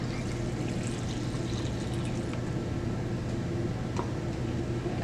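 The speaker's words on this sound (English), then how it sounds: "I'm going to take the chemical and I'm going to carefully and very slowly pour it in" Film developer chemical is poured slowly through a locked funnel into a developing tank, making a steady, soft liquid pour that runs continuously beneath a constant low background hum.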